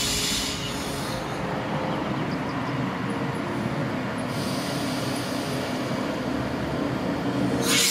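A Br628 diesel railcar pulls into Mörlenbach station, with a steady rumble of rolling wheels and engine drone throughout, and brief higher hissing bursts at the start and end.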